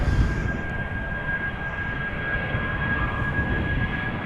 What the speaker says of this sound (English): A319 off to London Heathrow.